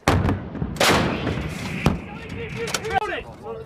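U.S. Marines firing artillery in a training exercise: two heavy booming blasts about a second apart, then a third, each with a sharp onset and rolling tail, with shouted commands in between.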